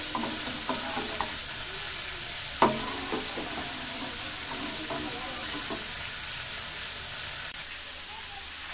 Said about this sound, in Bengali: কন্টিনিউয়াসলি কিছু সময় নাড়াচাড়া করে নিই